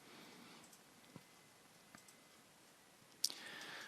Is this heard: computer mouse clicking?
yes